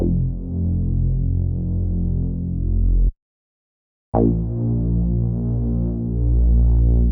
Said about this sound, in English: For the attack bass, I went into Analog Labs and found this sound.